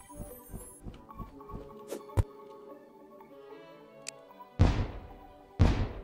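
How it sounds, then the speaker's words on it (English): A cannon in a video game fires as two heavy, booming blasts, spaced about a second apart near the end. Before them come softer thumps and plain game background sounds. "Oh, the cannon's going off again."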